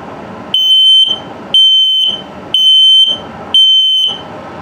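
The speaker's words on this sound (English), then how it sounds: "and low battery alarm." Four loud, shrill electronic low-battery beeps from an LP gas and carbon monoxide detector in a 2021 Starcraft Autumn Ridge camper, each about half a second long, repeating evenly about once per second, close by.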